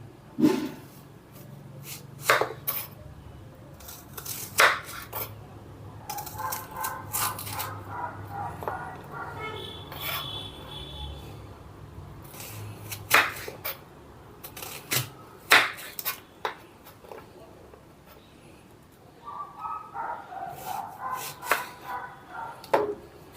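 Knife cutting onions into rings on a board for an onion-rings snack, giving sharp irregular chops and taps with short pauses and faint handling rustle, moderately close and clear.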